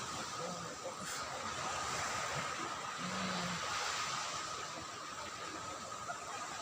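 High-tide ocean waves wash in at Magpupungko beach on Siargao island, a steady surf roar heard at a distance, joined by faint low engine hum and brief tones.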